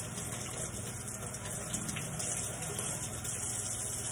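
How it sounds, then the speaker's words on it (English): Hot water runs steadily from a tap over a salon implement being rinsed, a continuous broadband gush with no pauses and no voices. "We're gonna rinse this in hot water."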